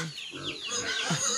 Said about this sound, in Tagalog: Hungry na yun si Piggy